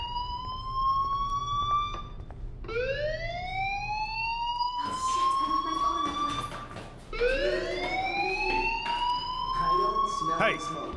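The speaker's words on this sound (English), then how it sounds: "do you hear that fire alarm?" A fire alarm wails in the video game Life Is Strange, rising sweeps that repeat several times at steady loudness, with a low rumble beneath.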